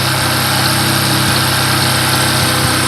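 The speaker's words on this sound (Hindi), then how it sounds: "इसकी जो स्पीड है इंजन की ये 3800 के करीब आ चुकी है।" Bajaj Platina 100 motorcycle engine holding a steady run near 3800 rpm, a loud, continuous buzzing drone with a faint periodic thump, close by, with no voices.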